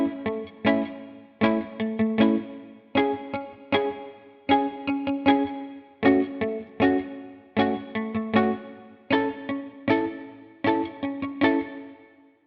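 Reggae chords on a virtual archtop guitar, with short choppy strummed stabs repeating in a steady offbeat rhythm, loud and up close, processed with an effect, with no voices.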